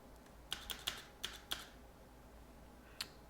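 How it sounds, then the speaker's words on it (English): Keys tapped on a computer keyboard during a JavaScript coding session, about six quick clicks in an irregular burst, then a single late keystroke, close and fairly quiet with no talking. "So we just type increment."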